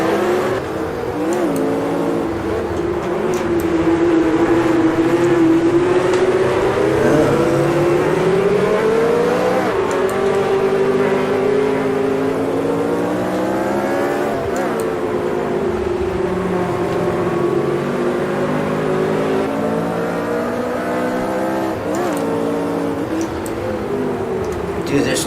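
Lotus 49C race car engine in a sim racing game at Jerez, revving high through gear changes with rising and falling pitch sweeps, loud and continuous under a voice talking throughout.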